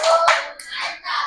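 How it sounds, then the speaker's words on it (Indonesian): Schoolchildren in a classroom clap together in a short rhythmic cheer, a few sharp, loud, close claps in quick succession. "Beri dia tepuk mantap."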